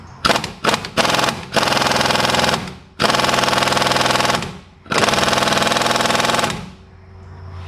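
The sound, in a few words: impact gun on a Ford Ranger spring hanger nut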